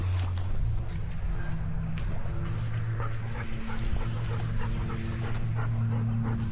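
Dog named Lady Liberty held in a stand-stay on leash before a relaxation walk, giving soft rhythmic panting with small whimpers and yips, close to the microphone over a steady low background hum.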